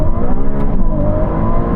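Ferrari supercars, a 296 GTB, an SF90 and an 812 Superfast, accelerate hard in second gear from 30 mph in a rolling drag race. The engines roar loud and close, with rising harmonic tones and no talking.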